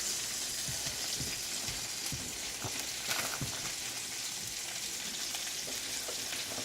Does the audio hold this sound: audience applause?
no